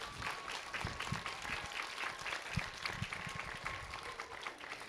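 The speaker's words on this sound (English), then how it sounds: "a round of applause for PNC" An audience at a grand opening ceremony gives a round of applause for PNC, with scattered individual claps standing out against softer crowd noise at moderate, fairly distant loudness.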